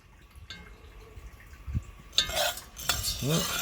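Coffee beans being stirred in a roasting pan on a BBQ grill, giving scattered soft scraping and clinking bursts with faint crackles, close up and alone.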